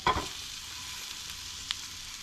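Black bean burgers sear in a pan with a steady soft sizzle, opened by a couple of quick spatula clatters and a light tap later on.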